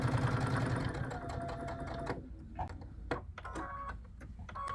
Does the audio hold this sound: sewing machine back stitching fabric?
yes